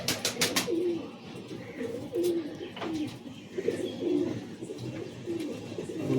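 Pigeons of Giribaz, Madrasi and Malwai breeds in a loft give repeated soft coos, opening with a few sharp taps or wing claps, over continuous nearby bird chatter.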